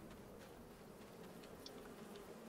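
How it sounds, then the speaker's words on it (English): A faint, steady buzzing of bees around a farm in the game Farming Simulator 22, low and continuous with no talk over it. "So they're the bees."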